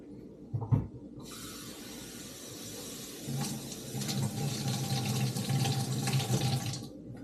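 Water pours steadily from a tap into a vessel for several seconds, a continuous rushing splash close by with no talking, measuring water for sourdough bread dough.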